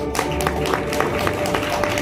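Audience applause at an annual real estate awards ceremony as a store's team steps up to receive its prize, a short burst of dense, steady clapping from a hall crowd with faint voices underneath.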